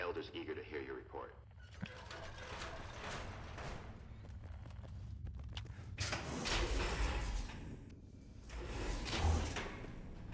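Heavy door in the video game Fallout New Vegas grinding and clanking open with sliding mechanical rumbles and thuds, loud and close, alongside game speech.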